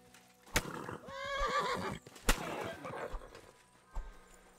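Horse in Kingdom Come: Deliverance II gives a loud, close whinny with a sharp snort before and after it and a few hoof clops. The sounds stand alone against quiet game ambience.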